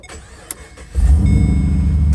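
A car engine cranks briefly and catches, settling into a loud, steady idle rumble close by, with no talking.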